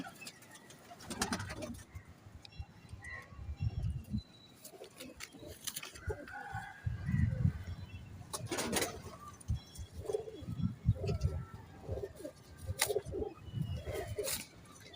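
Pigeons coo in low, soft bursts that repeat irregularly nearby, mixed with fluttering, rustling and shuffling sounds.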